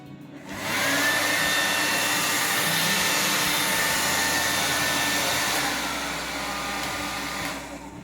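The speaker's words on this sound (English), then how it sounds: "The only possible solution is drying my hair with hairdryer." A hair dryer switches on and blows steadily with a loud whooshing hum, its pitch shifting slightly near the end before winding down.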